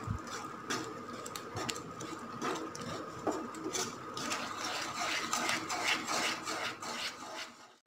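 A spoon scrapes and clinks against a pan while semolina and gram flour are stirred with sugar syrup over a low flame, giving a steady rhythmic scraping and tapping that is close and fairly quiet.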